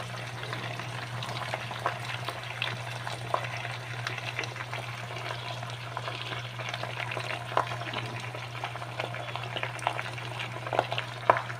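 Fresh spinach sizzles and crackles as it fries in a hot pan, a steady close frying hiss with scattered pops and a low hum underneath.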